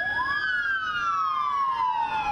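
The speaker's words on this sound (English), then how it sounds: "so they let their sirens speak for them" Police car siren wailing in a funeral procession for a fallen school resource officer in Pulaski County, one loud, close wail rising and then sliding slowly down in pitch, with no talk over it.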